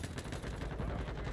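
Rapid automatic gunfire in Modern Warfare 2 multiplayer, a quick steady burst of loud shots lasting about a second with no talk over it.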